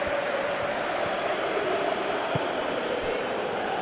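Stadium crowd applauding in a PES football game simulation of AC Milan versus Inter in Serie A, a steady, dense wash of cheering and clapping that holds evenly throughout.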